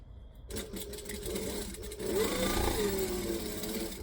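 A sewing machine stitches a fabric seam in a steady rapid whir that starts abruptly and holds, growing slightly louder partway through.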